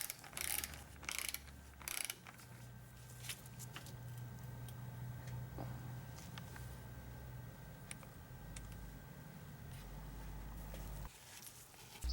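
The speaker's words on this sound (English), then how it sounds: "Tighten the center bolt to specification with a torque wrench." A torque wrench tightens the center bolt of a motorcycle fork during an All Balls Racing fork seal installation, giving quiet, close mechanical clicks and ratcheting taps spread over several seconds, with no talk.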